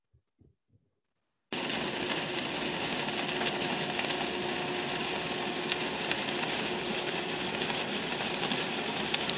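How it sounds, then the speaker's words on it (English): A distant ship picked up underwater by a hydrophone about 2 km away produces a steady, broad wash of hissing, rumbling noise that starts abruptly after a few faint knocks and continues unchanged. "So that's a ship that was recorded on a hydrophone 2 kilometres away."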